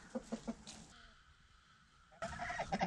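Chickens in a farmyard cluck before their evening feeding, with short rhythmic clucks close by, a quieter stretch, then a busier burst of clucking.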